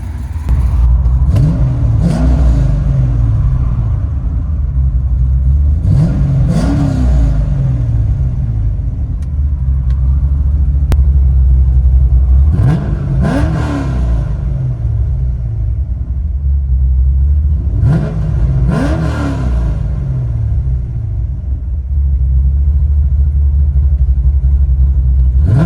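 Cam-equipped LS3-swapped Chevy Corvette C5 revving, heard from inside the car: a deep, loud idle rumble is broken by four sharp throttle blips that rise and fall at regular intervals.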